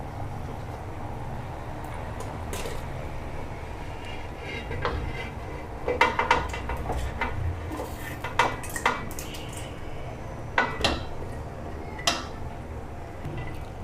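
Besan khandvi pieces are gently mixed into a simmering broth in a metal pot, with a soft background hiss and a handful of sharp utensil clinks and scrapes scattered irregularly, loudest toward the middle and end.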